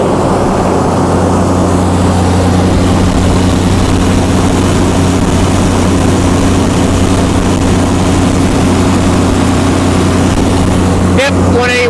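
A Chrysler Slant 6 engine fitted with Holley Sniper EFI drives a generator under a load test, a loud, constant low drone with steady harmonic hum throughout, close up, with brief knocks near the end.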